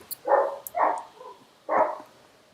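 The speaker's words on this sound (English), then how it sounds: "Please stop barking." A dog barks three times, muffled and a little distant, two quick barks followed by a single one after a pause, in an otherwise quiet room.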